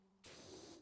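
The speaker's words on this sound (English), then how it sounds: "this one will be clean when I spray it down with a few gallons of water." A pressure washer spraying water in the video game PowerWash Simulator, a sudden steady hissing jet that cuts in after a faint hum and holds close and even.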